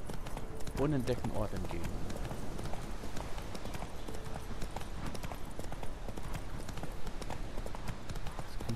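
Hooves clip-clop in a steady riding rhythm as a horse is ridden in The Witcher 3, continuing throughout under a voice.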